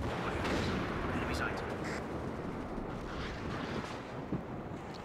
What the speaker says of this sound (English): I got artillery coming on top of those houses